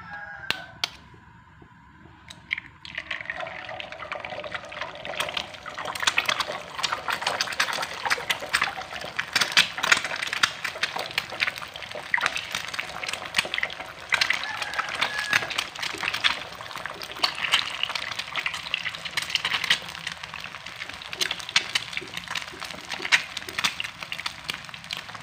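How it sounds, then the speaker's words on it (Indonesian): Eggs fry in hot oil in a pan, a dense continuous sizzle and crackle with sharp spitting pops that swells after a quiet start and keeps going loudly, with no talking. "Cara membuatnya, pertama-tama kita goreng dulu ya telurnya."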